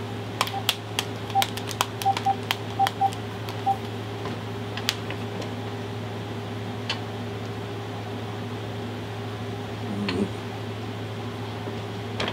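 Telephone dialing tones from a prison phone call: a quick series of short beeping key tones in the first few seconds, faint over a steady low hum and line noise, with no talking.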